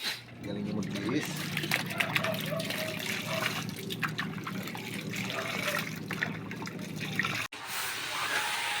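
Laundry being washed by hand, with sloshing, splashing water and fabric being worked in a basin nearby, continuous over several seconds, under a voice talking.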